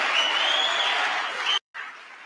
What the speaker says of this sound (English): everybody on this side is all applauding